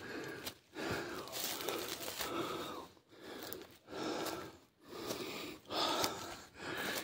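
A person clearing weeds pants heavily, with close, rhythmic breaths and gasps repeating about every second.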